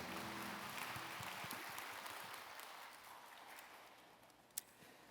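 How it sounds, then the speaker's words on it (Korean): A worshipping congregation at a Sunday church service claps in praise, a soft, diffuse patter of many hands that gradually thins out, with one sharper clap near the end. "하나님께 감사와 영광의 박수 올리겠습니다."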